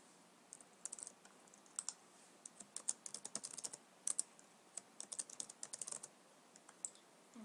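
Someone taps out an email address and password on a computer keyboard, quiet irregular keystrokes in short bursts and single clicks, close by and with no talking.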